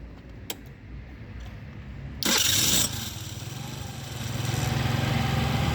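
A Kuba Bluebird 50 scooter with a repaired electronic control unit cranks, fires up with a loud burst, then settles into a steady close idle that rises slightly in pitch toward the end.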